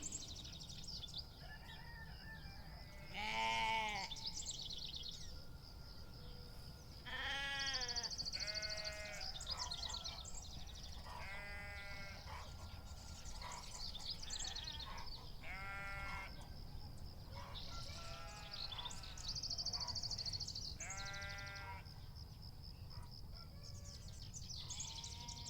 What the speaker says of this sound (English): Can you hear the sound of sheep?